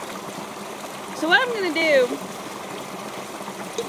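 Creek water flows as a steady, continuous trickling rush beneath a voice, which talks over it throughout.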